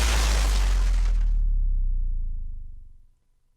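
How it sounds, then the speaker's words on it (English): Glass drop sound effect in a song mix, paired with a deep bass drop: a bright crashing burst that rapidly fades, leaving a low rumbling boom decaying over about three seconds. "we have what's labeled as an FX glass drop"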